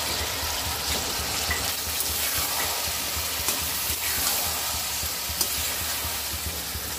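Green beans frying in spiced oil with mustard paste, Bengali style, give a continuous close sizzle, and a utensil scrapes and stirs through it now and then.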